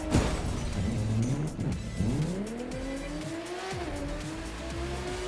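A car races across rooftops in a video game, its engine revving and rising in pitch through repeated accelerations, with tires squealing and skidding as it swerves, loud and close throughout.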